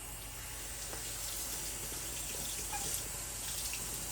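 Water running from a tap as vacuum cleaner parts, from a Gtech AirRam AR2, are rinsed under it, a steady close hiss and splash with no talking.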